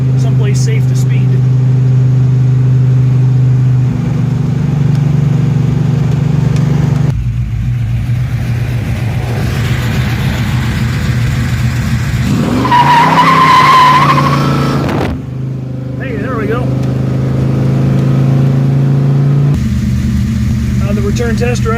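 A 600 HP 1968 Buick GS 400 muscle car idles and revs loudly up close, then breaks into a long, shrieking tire squeal as it burns rubber before settling back to a rumble.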